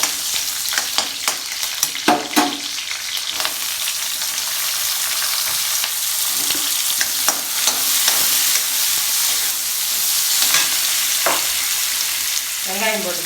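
Onions fry in hot oil in a pan for a vegetable white gravy, giving a steady loud sizzle broken by repeated scraping stirs of a spoon against the pan.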